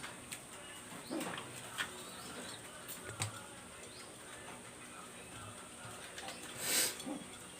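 Pigeons of a fancy breed coo softly in a loft, low murmuring calls repeating at intervals over faint background noise, with a brief flutter of wings near the end.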